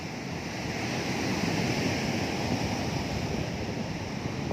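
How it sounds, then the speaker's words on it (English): Roaring monsoon sea at Calangute beach in Goa on the Arabian Sea, big waves in rainy weather: a steady, dense broadband rush of surf, loud and unbroken, with wind noise on the microphone and no voices. "showing you the monsoon roaring sea at Calangute beach, Goa."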